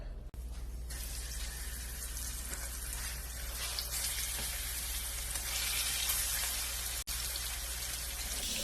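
Pork chorizo searing in a hot skillet, a loud, dense, continuous sizzle that stays close and steady throughout, with one brief dropout near the start and another near the end.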